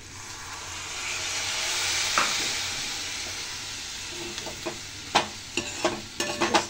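A steady hiss rises from a hot pan as a little water goes into a sizzling bean and potato curry, and it fades into stirring scrapes and a few clinks of a utensil against the pot.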